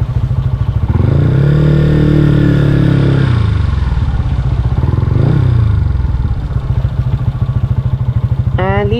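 A Yamaha Sniper 150 motorcycle engine starts and idles nearby with a steady, throbbing putter, revving briefly twice before settling, and a quick rising whirr near the end.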